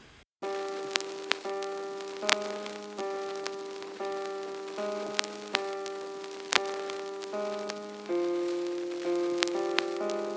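A mellow MIDI keyboard melody, processed with a vinyl wear and warping effect in Ableton, plays with a crackly vinyl hiss beneath it and a faint wavering pitch, steady and close, with no voices.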